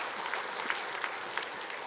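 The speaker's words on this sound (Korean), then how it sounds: "한번 우리 하나님께 영광의 박수 한번 올려드리겠습니다" A church congregation gives a short burst of applause, dense overlapping claps at moderate volume with no voices, filling a reverberant sanctuary.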